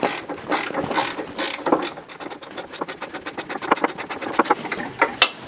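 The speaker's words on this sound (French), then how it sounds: "Là, serrage au couple 45 Nm." A ratchet torque wrench clicks rapidly and steadily while tightening a front suspension link bolt on an Alfa Romeo to 45 Nm, close and dry, with bursts speeding into quick runs of clicks and no talk.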